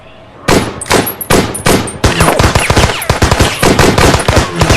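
Loud gunfire: several spaced single shots followed by rapid automatic bursts, sharp and close, continuing to the end.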